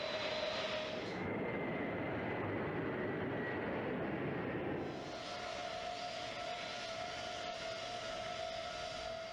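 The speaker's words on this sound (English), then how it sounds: "as it taxis toward the runway, the C-5's engine starts to make shrilling sounds" A C-5 military transport's jet engines whine and roar while taxiing toward the runway, a broad rushing roar that eases after a few seconds and leaves a steady high tone over lower rumble.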